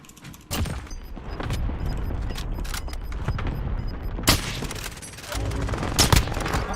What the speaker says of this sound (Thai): ใครยิงวะ